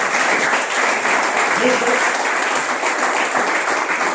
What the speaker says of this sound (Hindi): मैं चाहूंगा इनके लिए जोरदार तालियां हो जाए यार